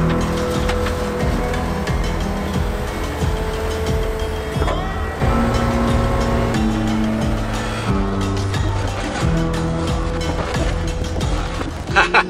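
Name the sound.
Ford F-550 dump truck driving loaded with dirt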